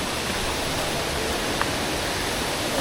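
Steady broadband rush of water from Ditumabo Mother Falls, a continuous dense roar with no pauses, close and loud, with no one speaking over it.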